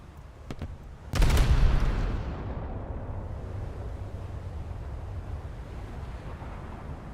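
A naval game warship's guns fire: a few faint distant shots, then one loud close boom that rolls off into a long rumbling decay under steady wind and sea noise.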